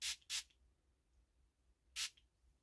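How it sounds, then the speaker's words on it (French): Three short aerosol spray bursts from a can of foam product, two quick hisses close together, then a pause and a third hiss, close and fairly quiet. "Et si après on fait du spray,"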